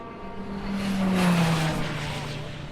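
An Audi race car at a Le Mans-style endurance race roars past close by, its engine note swelling loudly and then dropping in pitch as it moves away.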